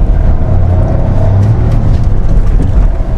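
A Kia Syros with a turbo petrol engine accelerates hard, its loud, steady engine drone rising through the gears close to the cabin, with no talk.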